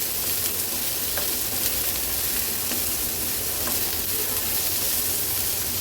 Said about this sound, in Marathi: कांदा पण खूप शिजवायचा नाही, फक्त तेलावर असा परतून घ्यायचा आहे